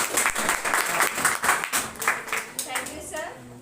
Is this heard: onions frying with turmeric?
no